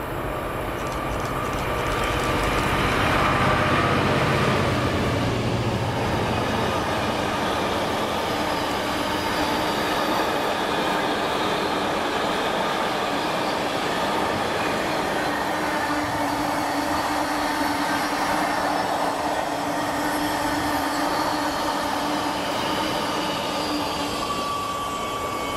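Freight train 4L10, Coatbridge to Tilbury, passes Crawford Curve in Scotland behind Class 66 locomotive 66425, a long sustained rumble of engine and rolling wagons that holds steady and loud for the whole stretch.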